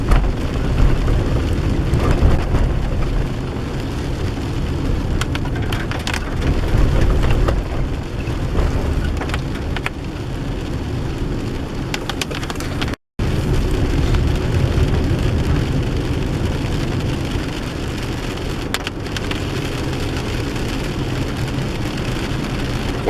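Steady, loud rain hisses continuously on the Pacific Northwest coast, with only a brief dropout midway.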